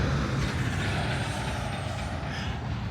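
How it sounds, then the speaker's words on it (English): A loud truck rumbles past close by on a street in downtown Jonesboro, Arkansas, a steady heavy engine roar that fills the whole moment. "That is a loud truck."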